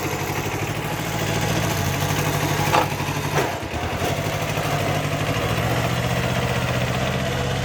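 Kubota B5001 compact tractor engine idling steadily nearby with a low, even diesel chug, a brief bump in revs near the middle, no talk.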